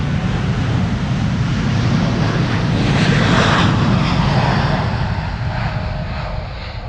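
A KLM jet airliner departing Amsterdam Schiphol as flight 611 to Chicago gives a loud, broad engine roar that builds slightly, then eases and thins toward the end, with no voices over it.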